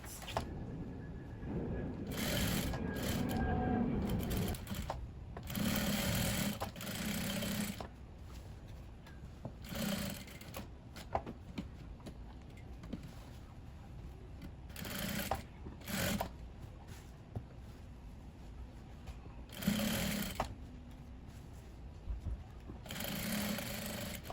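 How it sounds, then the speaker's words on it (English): A sewing machine stitches Asooke fabric onto material for a bubu kaftan gown in short bursts of rapid whirring, separated by pauses, fairly close and moderately quiet. "So the next thing I'm going to do is to stitch it up."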